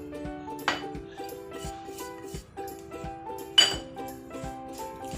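A metal spoon clinks against a bowl while the last spoonful of sugar is added for sweet karanji dough, with a few light taps and two sharper clinks over quiet background music, close and soft.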